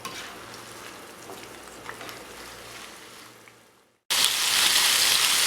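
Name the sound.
chicken frying in oil, turned over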